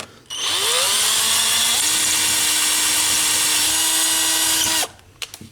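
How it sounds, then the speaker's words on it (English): A power drill drilling holes while fitting parts on a Cummins Ram truck spins up and runs loud and steady for about four seconds, its whine shifting pitch once, then stops, followed by a few clicks. "then we'll drill them and be good to go"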